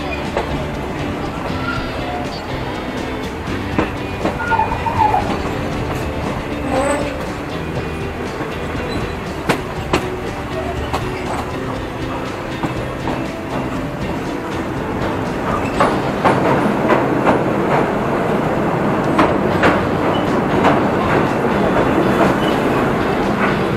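Passenger train number 170 rolls into Bangkok's Hua Lamphong station with a steady clickety-clack of wheels over rail joints. The sound is continuous and close, growing louder and busier toward the end.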